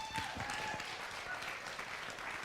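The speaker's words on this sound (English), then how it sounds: "everybody, please give them a round of applause" Audience applause at a live interview event: steady, even clapping from a crowd throughout, moderately distant and with no talk over it.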